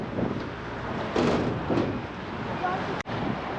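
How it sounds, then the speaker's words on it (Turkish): Strong, cold gusts of wind by the sea in Fethiye buffet the microphone in rough, rumbling bursts, with a sharp knock near the end. "Fethiye'de sert bir rüzgar var."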